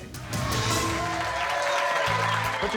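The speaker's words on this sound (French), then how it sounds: "Merci d'applaudir MC Nicole et Go-Go Boy." Studio audience applause on a reality competition show, a steady wash of clapping that swells in and continues throughout, with faint music underneath.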